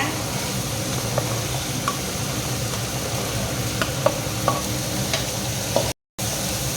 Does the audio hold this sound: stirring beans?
yes